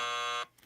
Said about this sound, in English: Buzzer and everything.